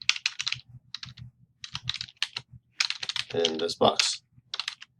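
Rapid typing on a computer keyboard, a run of quick clicky keystrokes in bursts with a person speaking over and between them.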